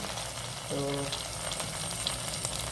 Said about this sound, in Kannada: ಒಂಚೂರು ಮಸಾಲೆ ಎಣ್ಣೆಯಲ್ಲಿ ಹುರಿದು